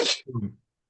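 A single sneeze bursts out close to the microphone: a sharp, hissy burst followed by a brief voiced tail, lasting under a second before silence.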